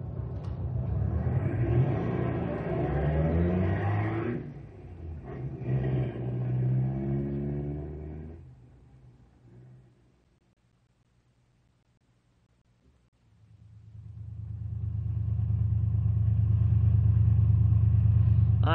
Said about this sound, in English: Sounds like they're out to warm up their cars, not burn them up.